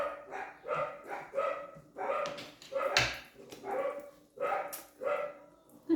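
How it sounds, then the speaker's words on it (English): A dog barks repeatedly nearby, loud rhythmic woofs with a few whiny yelps mixed in, no other voices. "Loud dog."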